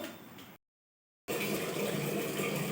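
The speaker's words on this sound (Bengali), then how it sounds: "জলের বোতলে জলগুলো ভরে নিই" Water gushes steadily into water bottles in a home kitchen, a full pouring rush that cuts out briefly to silence and then resumes at a stronger, steady flow.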